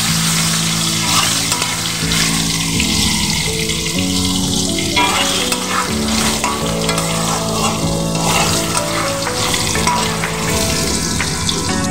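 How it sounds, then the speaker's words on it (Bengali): Cut potatoes frying in oil with salt and turmeric, a loud, dense, unbroken sizzle close up, overlaid with the scraping and rattling of steady stirring. "সামান্য লবণ, সামান্য হলুদ দিয়ে আলুগুলোকে আমি ভালো করে ভেজে নেব।"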